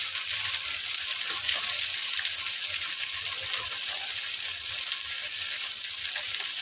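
Chopped onion and tomato fry in a hot pan with turmeric for a bitter gourd dish, giving a steady, loud, unbroken sizzle with light bubbling and occasional stirring scrapes.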